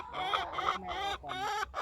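Egg-laying hens cluck in a farm coop, a close series of rhythmic, throaty calls repeated in bursts with brief pauses between.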